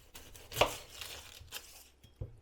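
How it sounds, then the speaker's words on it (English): A knife chops through an onion on a board for mushroom soup, a few irregular crisp cuts with one sharper thud near the start and a couple of soft knocks at the end, close and fairly quiet with no talking. "We are now going to cut up the onion"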